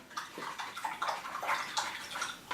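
A paintbrush swished and rinsed in a pot of water, giving a few close bursts of sloshing and swirling splashes one after another, with no talking.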